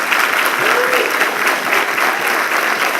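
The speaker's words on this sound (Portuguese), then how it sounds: "aplauda o Senhor, bem forte" A church congregation in Nova Almeida applauds the Lord loudly, a dense, steady wash of clapping that fills the full three seconds with no break.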